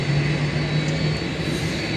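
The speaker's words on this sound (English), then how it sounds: "we might get photobombed by that Asiana 747 that's right behind me. You can hear her firing up behind me here." An Asiana Boeing 747 jet engine spooling up on the airport apron, a steady loud roar with a low whine throughout, heard from nearby without talk.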